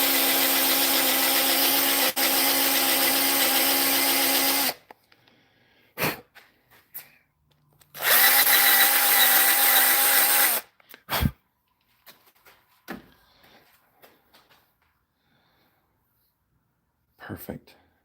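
A power drill boring into wood whines steadily for several seconds, stops, then runs again in a second burst, with clunks and quiet handling noises in the gaps.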